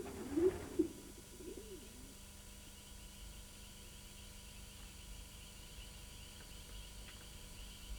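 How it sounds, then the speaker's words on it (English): Racing pigeons in a loft give a couple of close, soft coos in the opening second, then the space falls to a quiet, low hum for the rest. "I don't keep those type of pigeons."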